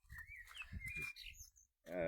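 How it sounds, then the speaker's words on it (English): A blackbird's bright, fluting whistles ring out in a back garden orchard, mixed with soft low murmurs and rustling nearby. "There's a blackbird up there singing to me."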